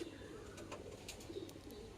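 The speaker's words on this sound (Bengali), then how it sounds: "এটা আরসাদ পায়রা।" A black-eyed Arshad (Kalanka) pigeon gives soft, low cooing, faint and close against a quiet background hum.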